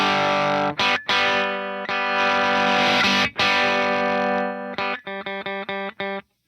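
Electric guitar played through a Lauren Audio Mustang effects pedal, giving a thick, distorted, chorus-like tone: long sustained chords broken by brief gaps, then a run of short staccato stabs. Loud and close, with no talking.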